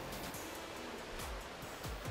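A waterfall at Seneca Mill Falls on the Keuka Outlet Trail gives a steady, full rushing roar of falling water, continuous and fairly close, with no voices heard.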